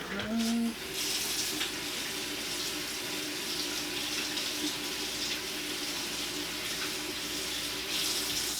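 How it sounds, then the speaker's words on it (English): Cold tap water runs steadily from a faucet over a freshly formed sports mouthguard to cool it, a continuous loud splashing hiss close by, with a brief tone at the start. "put it under some cold water now"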